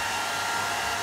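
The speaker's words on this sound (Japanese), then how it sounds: "ドライヤーでこっちの表面温度だけ温めていきたいと思います" A hair dryer blows steadily on the surface of a thawed feeder mouse meant for a ball python, giving a constant loud airy whoosh with no breaks or talk.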